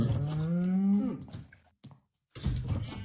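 A Minecraft cow gives a loud, drawn-out moo up close, followed by a short gap of silence and then a brief burst of further game noise.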